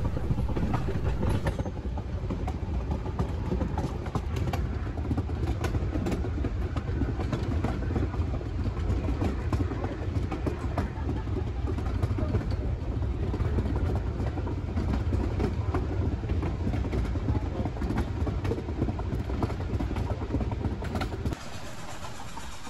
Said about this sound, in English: 473 in the mix passed through the siding of Tacoma